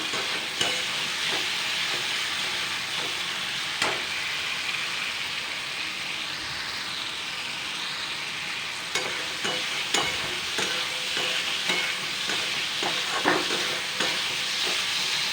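Spice masala sautéing in a little oil for a vegetarian ridge gourd, potato and split chickpea curry, a continuous sizzle broken by repeated scraping stirs of a spoon against the pan, no voices.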